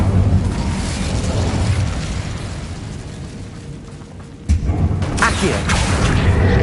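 An Incendio fire spell cast in Hogwarts Legacy: a low rumbling whoosh that fades, then a sudden burst of flame with crackling pops, loud and close over game ambience.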